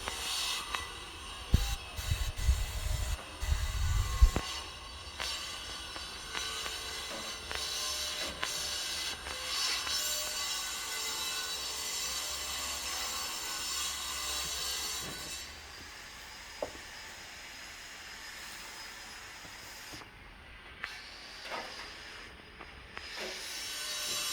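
Construction noise from neighbours' building work, with a burst of heavy low rumbling thuds early on, then a long sustained grinding, squealing drone that carries on to the end with nobody talking.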